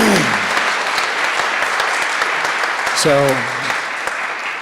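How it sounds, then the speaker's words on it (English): Audience at a spring startup pitch night clapping for a presenter called up on stage, a dense steady wash of applause with a brief voice cutting in partway through. "give Nate a round of applause here"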